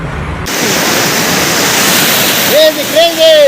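A hidden waterfall near Thirthahalli roars as a loud, constant rush of falling water up close, with a voice calling out over it near the end.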